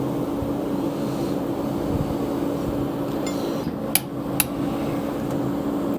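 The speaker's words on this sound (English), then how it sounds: "Then I can drive the shaft out of the gear and out of the housing." A shaft is hammered out of the oil pump gear and housing of a 1943 Case SC tractor, two sharp metallic strikes standing out over a steady engine-like hum in the background.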